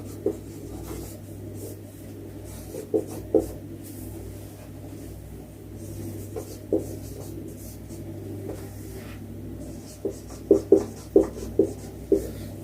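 Chalk or marker writing on a board during a Hindi-medium class 10 coordinate geometry lesson: soft scratchy strokes and light taps come in short clusters over a low steady hum, with no talk.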